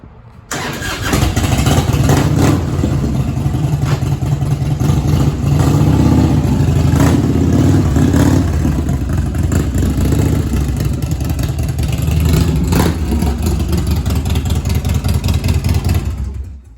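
A 1997 Harley-Davidson Heritage Softail Classic with an Evo V-twin fires up, then holds a loud, throbbing idle with a few blips of throttle, close by and steady until it cuts off.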